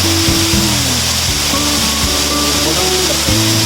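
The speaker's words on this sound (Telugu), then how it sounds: "ఈ వాటర్ ఫాల్." A waterfall in a deep forest roars with a dense, steady rush of water, loud and close, while low tonal sounds hum beneath and no one speaks.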